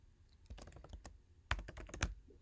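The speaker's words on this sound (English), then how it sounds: "Go to insert mode, type something" Quick bursts of typing on a computer keyboard while editing a text file, close and crisp, with two louder clusters of keystrokes in the second half and no talk.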